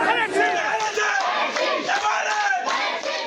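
Crowd of party workers and supporters cheering and chanting in a victory celebration after an election win, many loud overlapping voices rising and falling together in rhythmic shouts.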